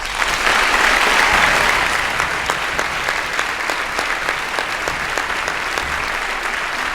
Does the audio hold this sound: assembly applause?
yes